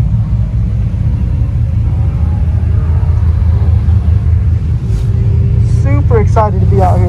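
Steady low engine rumble of BMW race cars running nearby at Chuckwalla Valley Raceway, with a brief higher whine near the end.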